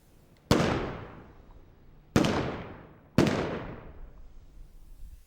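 Three sharp rifle reports from a ceremonial firing detail at a Vietnam Veterans Day observance, spaced about a second or two apart, each loud blast followed by a long decaying echo across open ground.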